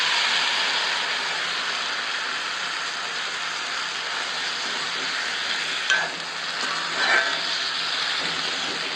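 Hog plums added to a hot Konkani-style tempering with curry leaves are stirred in a pan, giving a steady close sizzle and fry with light scraping, without speech, for an ambade chutney.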